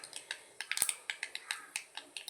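Mustard seeds crackle and pop in hot oil, a quick irregular series of sharp, faint snaps close by, with no talking.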